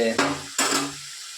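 Food frying in a pan gives two quick bursts of sizzling stir noise, each a sharp rustling scrape fading into a soft hiss, close and moderately quiet.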